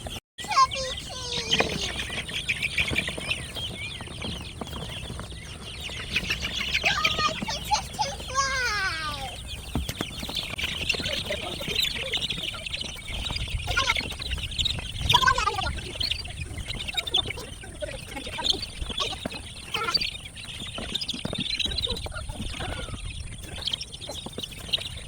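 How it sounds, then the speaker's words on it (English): A flock of heritage meat chickens, freshly moved in with other chickens, keeps up a steady mix of clucks, chirps and calls, with some voices close and some farther off, over continuous yard noise. "So we're going to get them in with the other chickens."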